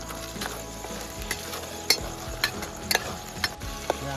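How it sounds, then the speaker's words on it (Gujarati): Ginger, garlic, chilies and onion fry in oil in a village kitchen while being stirred, a steady sizzle broken by sharp spoon scrapes and clinks against the pan. "આદુ, લસણ, મરચાં અને ડુંગળી થોડીક વાર સડવા દેવાની છે."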